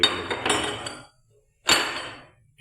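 Old brass vessels clink and ring as they are nested one inside another, two bright metallic knocks with ringing decays separated by silence, close and clear.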